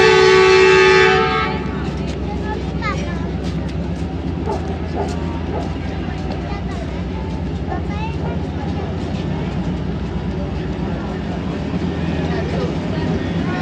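Allama Iqbal Express, a large economy-class passenger train from Karachi to Raiwind, rumbles along steadily with rhythmic rail clatter and low droning; a brief loud horn blast opens the sound, with faint voices under the continuous roar.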